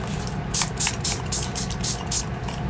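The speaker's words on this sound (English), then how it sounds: "Let's spray that on there." A spray bottle sprays colour onto paper in a quick series of about eight short hissing spritzes in an uneven rhythm, close up over a steady background hum.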